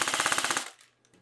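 Airsoft gun (the "Rat Gun") firing a rapid full-auto burst for a rate-of-fire test, about a dozen evenly spaced sharp cracks over half a second, loud and close, then abrupt silence with faint mechanical rattle.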